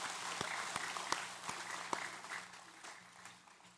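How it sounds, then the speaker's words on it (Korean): A church congregation claps during a Sunday service, a soft patter of many hands that thins out toward the end. It sounds faint and somewhat distant, with no clear talk over it. "우리 박수로 환영하도록 하겠습니다"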